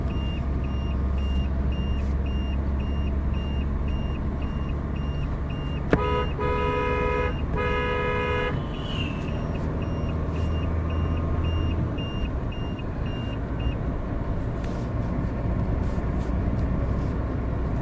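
A Mahindra Scorpio S5 BS6 SUV with a DEF fault code driving along, a steady engine and road drone throughout, with a short burst of electronic warning beeps partway through and a faint repeating chirp.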